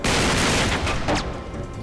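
Gunfire in Uncharted 3 bursts out as a dense, loud volley of overlapping shots with booming impacts, fading slightly toward the end of the short burst, with no talking.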